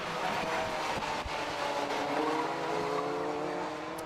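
A race car pulls away from the pits at Anglesey circuit after a driver change, its engine droning and rising in pitch as it accelerates, steady and moderately distant, with faint engine tones from other cars around it.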